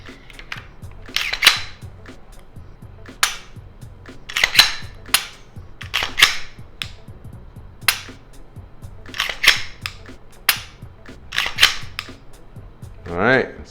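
Glock 17 pistol reassembled after a grip install: a series of sharp metallic clicks and snaps of parts sliding and locking, spaced irregularly and close, with someone talking briefly in places.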